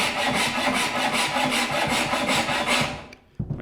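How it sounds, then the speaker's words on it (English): Hand saw cutting through a node of a bamboo cane, a close, steady back-and-forth rasping stroke rhythm for about three seconds, then a pause and a single knock. "So I'm going to cut the node off just to look at"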